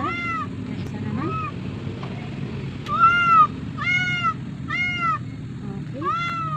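A pet cat meows repeatedly at close range, a string of short, clear, rising-falling cries spaced about a second apart, over a low background rumble.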